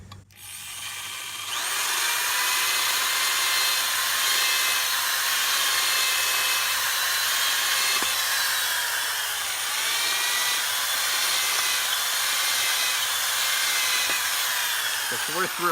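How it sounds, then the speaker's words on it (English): An old corded rotary drill bores into concrete, starting abruptly and then grinding at a loud, steady whine for many seconds with slight wavering in pitch, close up and unbroken. "I still like the sound of an old corded drill"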